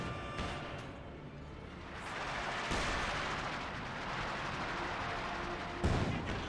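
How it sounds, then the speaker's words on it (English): An artillery siege barrage in the Company of Heroes 2 strategy game thunders as a dense wash of distant booms and rumbling impacts, with a sharper blast near the end and no voices. "Siege barrage as well."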